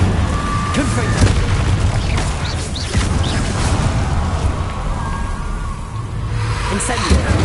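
Confringo explosive spell blasts in the video game Hogwarts Legacy, loud booming bursts that repeat across a dense, continuous wash of combat noise with no clear pauses between them.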